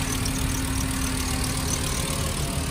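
A five-cylinder car engine idles steadily, a close, even low rumble with a faint regular pulse throughout and no voices.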